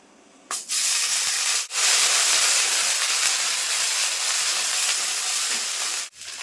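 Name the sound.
ginger garlic paste sizzling in hot oil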